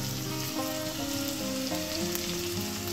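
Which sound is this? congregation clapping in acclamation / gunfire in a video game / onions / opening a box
onions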